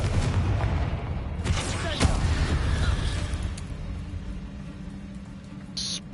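Magical Confringo blasts from the Hogwarts Legacy video game, a dense run of booming, gunfire-like bursts and crackling impacts over a rumbling battle background, loud and continuous with a sharp hit near the start.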